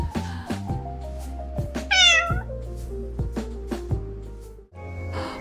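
A pile of cats in the game Calico meows repeatedly, several short tonal calls in an irregular rhythm, close and clear over soft game music, with one louder, higher cry standing out in the middle.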